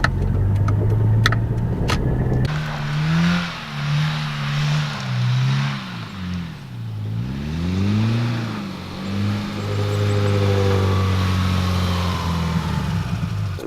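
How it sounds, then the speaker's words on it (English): A lifted Subaru Impreza Outback Sport on snow, its engine revving up and down through gears with a wavering tone, loud and close, after a brief clatter at the start. "now I am driving Sean's car. We're in the snow right now. This is the Outback Sport."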